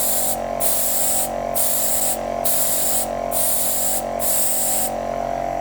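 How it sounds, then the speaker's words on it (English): An Arism Mini airbrush sprays paint in steady hissing pulses, about six on-off bursts at an even rhythm, over a constant low compressor hum. "Now medium spray patterns are going to be absolutely fantastic with this airbrush."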